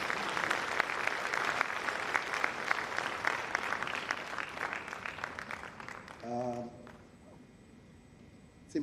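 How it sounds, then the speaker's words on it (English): A conference audience at a Sierra Leone national budget presentation gives the Minister of Finance a round of applause: rapid, dense clapping for about six seconds, then it fades, a voice begins speaking and the room goes quiet. "Let's give him a round of applause again."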